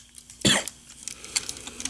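A single sharp, close cough bursts out amid dusty toy car collection handling, followed by faint small clicks and rustles.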